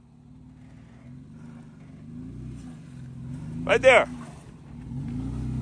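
A car backs out and drives off, its engine a low steady hum that swells into a brief louder rev near the end, with people talking over it.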